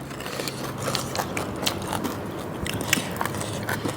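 Crunchy chewing of spicy Thai papaya salad with rice noodles and braised pork ear, a steady run of close, crackly bites and crunches repeating rhythmically throughout with no talking.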